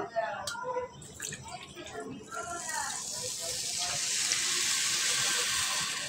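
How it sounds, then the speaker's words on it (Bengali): Water pours steadily into a pot of sugar to start a thin syrup, a rising hiss and splash that builds after brief clinks and a voice talking over the opening moments. "ওই কাপেরই আমি 4 কাপ জল দিয়ে দিচ্ছি"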